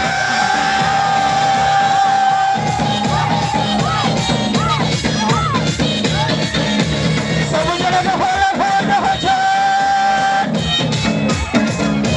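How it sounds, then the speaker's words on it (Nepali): A large crowd shouts, whoops and cheers loudly and without pause at the Aarkhudi Nwagi festival, many voices overlapping in a dense roar. "सबैजनाको हल्ला"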